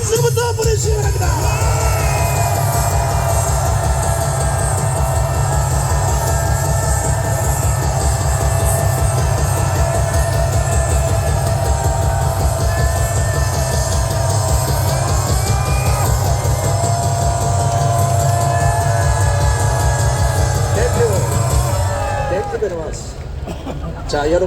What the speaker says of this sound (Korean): 감사의 함성부터 보내주시기 바랍니다